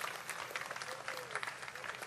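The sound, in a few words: audience applause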